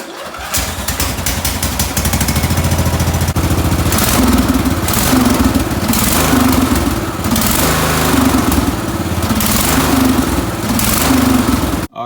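A racing lawn mower engine fitted with a new homemade foot throttle runs loud and close, revving up and down in steady waves before cutting off abruptly at the end, with no talking.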